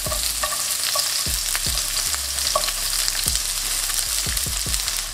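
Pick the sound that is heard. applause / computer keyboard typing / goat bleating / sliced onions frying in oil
sliced onions frying in oil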